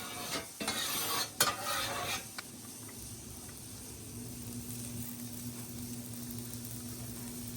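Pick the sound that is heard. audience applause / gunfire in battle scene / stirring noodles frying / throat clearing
stirring noodles frying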